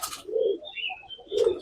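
Domestic pigeons in a loft give two soft, low coos close by, with a faint higher chirp between them.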